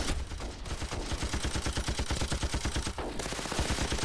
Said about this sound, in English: just use the machine gun